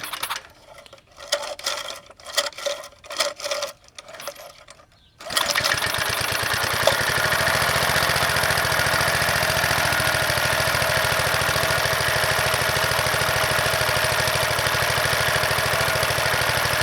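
Vintage McLane reel mower engine, after a few seconds of faint fumbling and pulls, starts up and settles into a loud, steady running drone that holds continuously to the end.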